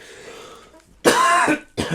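A person clears their throat once, then gives a short cough right after, both close and loud against a quiet background.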